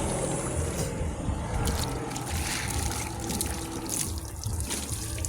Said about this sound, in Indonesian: Siram di air dulu, baru mau seka-seka, baru pakai sabun.